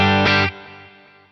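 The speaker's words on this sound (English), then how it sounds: "the delays are so much duller and they don't get in the way of the guitar signal" A distorted electric guitar chord played through a Boss Katana amp cuts off, leaving quiet, dull delay repeats with a 2.5K low cut trailing softly in the background as the sound fades.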